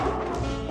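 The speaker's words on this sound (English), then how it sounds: "I hope I can outrun those dogs." Attack dogs give a single short, close bark that lasts under a second.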